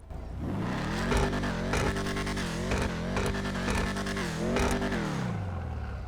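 A car engine in GTA 5 Online revs repeatedly, its pitch climbing and falling in several loud surges over a steady rumble, close and prominent.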